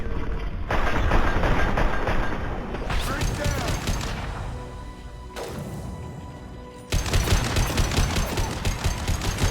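Sniper rifle fire in Mass Effect 2 mixes with other combat noise in loud, repeated cracking bursts. A brief lull is followed by another heavy volley, with voices talking over the action.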